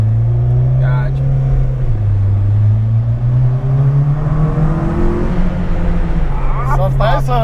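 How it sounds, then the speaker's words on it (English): A modified 2011 Honda CR-Z exhaust drones steadily while driving, its low engine tone rising and falling gently with throttle, loud and close throughout with faint voices near the end. "I'm really happy with the exhaust, how it turned out."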